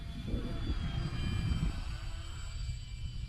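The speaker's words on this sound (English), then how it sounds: "Good flying little plane though." A small Trojan RC airplane flies overhead, its engine a steady broadband drone with a faint high whine, louder at first and then easing slightly as it passes, with no voices.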